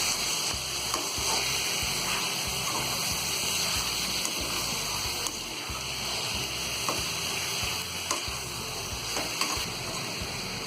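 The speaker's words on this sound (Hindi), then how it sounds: "इसमें डाल देंगे टमाटर, इन सारी चीजों को हम अच्छी तरह मिला देंगे।" Tomatoes are stirred into onions in a kadai while cooking chicken, giving a loud, continuous sizzle and fry with repeated scraping and stirring knocks throughout, close and steady with no talking.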